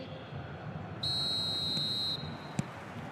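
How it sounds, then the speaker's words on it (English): Referee's whistle in the eFootball video game starting the second half, a single steady high-pitched blast lasting about a second over low crowd ambience, followed by a brief sharp click. "Whistle goes, and we start the second half."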